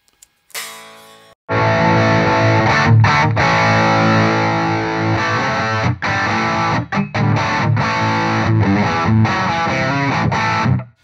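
A high-gain distorted electric guitar runs through an H&K Spirit Nano amp, thick and compressed, with chugging chords and brief choked pauses after a short opening note.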